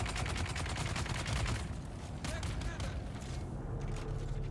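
Sustained automatic fire from a machine gunner and a rifleman striking a shield in the Hagga Basin in Dune Awakening, a dense rattle of rapid shots that eases and becomes more scattered partway through, with a voice speaking over it.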